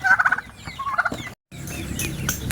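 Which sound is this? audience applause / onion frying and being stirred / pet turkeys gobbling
pet turkeys gobbling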